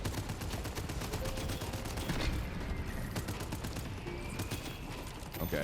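Rapid gunfire from a weapon in the action roguelite game Abyssus, a dense series of sharp repeated shots in quick bursts, loud and sustained throughout.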